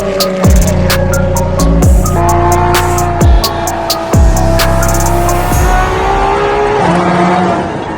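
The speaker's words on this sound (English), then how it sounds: "I'm sitting right now in the LaFerrari FXXK Evo" A LaFerrari FXXK Evo races in a video game, its engine howling loud and close through repeated upshifts, each gear change dropping the pitch sharply, with a tire squeal underneath.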